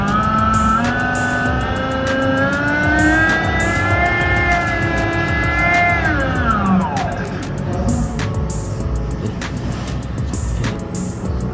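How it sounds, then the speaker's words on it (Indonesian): A brushless DC motor on a lab bench, its speed set by a rheostat, gives off a steady whine rich in overtones that glides downward as it slows, then gives way to faint, irregular clicking. "Dapat dilihat motor BLDC dapat berputar."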